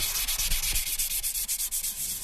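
Hand sanding of guitar wood with 1000 grit sandpaper, short rhythmic scratchy strokes in quick succession, close up and clear with no voices.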